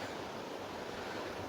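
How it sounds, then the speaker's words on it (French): Water of a small stream flowing along a hiking path, a dense, steady rushing wash heard close and continuous without any voices. "avec le bruit de l'eau qui coule"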